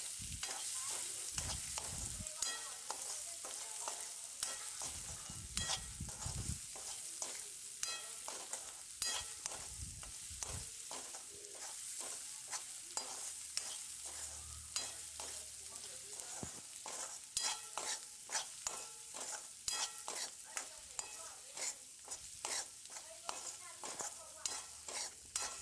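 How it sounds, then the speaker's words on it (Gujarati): Spices fry and sizzle in hot oil for a Kathiyawadi dahi tikhari tempering, with a steady crackle under repeated scraping stirs of a spoon against the pan. "વઘાર આપણો રેડી થઈ ગયો છે"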